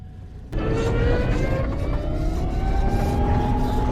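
A car engine in the 2019 film 4X4 turns over with a sudden loud start, then hums and whines steadily as the car, stuck in reverse, moves backward.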